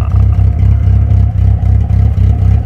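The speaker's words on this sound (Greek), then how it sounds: "Κάτι κουνιέται από κάτω. Όχι, ρε, εξάτμιση." BMW engine revving with a broken exhaust rattling underneath, a loud, close, pulsing low drone with a rapid repeating clatter running through it, no talk.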